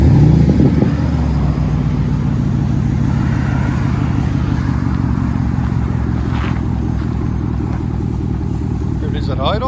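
Loud, steady low rumble of a 2011 Chevy Camaro SS convertible's 6.2L V8 at idle through true dual straight pipes with the X-pipe deleted, close by with a brief voice at the start.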